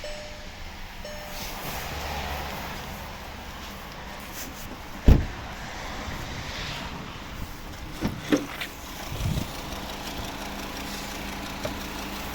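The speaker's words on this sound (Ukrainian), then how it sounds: "Підемо подивимося, як працює двигун." A 2013 VW Jetta with a 2.5-litre petrol engine converted to LPG idles steadily at a moderate distance, with a low continuous hum broken by a few sharp knocks and clunks.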